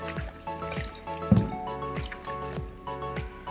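Cabbage is washed in salted water with close, wet squishing and dripping sounds in a steady irregular rhythm, water trickling and sloshing as the leaves are handled, with no talking.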